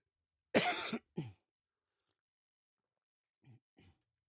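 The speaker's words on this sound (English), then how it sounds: "Let me clear my throat." One person clears their throat with a loud close rasp and a short follow-up grunt, then a pause and two faint, brief throat noises.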